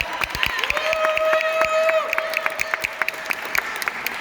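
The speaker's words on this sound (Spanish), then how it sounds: "Un aplauso para Marta." Audience at a Hispanic Heritage Month event inside the New York Hall of Science applauds Marta, steady clapping over music with a sustained tone and scattered cheers, fairly loud throughout.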